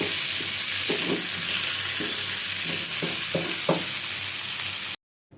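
Dried salted fish (sukhua) fries in a pan with a steady, bright sizzle close by, broken by several soft stirring knocks, before the sound cuts out abruptly near the end.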